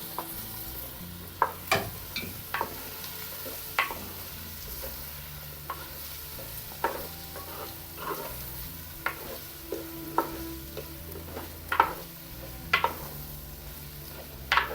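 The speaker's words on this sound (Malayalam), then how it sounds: "ഇതിലോട്ട് നമ്മൾ അരിഞ്ഞ് വെച്ചേക്കുന്ന കുമ്പളങ്ങയില്ലേ അതിട്ട് കൊടുക്കാം" Chopped ash gourd is tossed and stirred in a sizzling pan, with sharp intermittent scrapes and clacks of a spoon against metal over a steady low frying hiss.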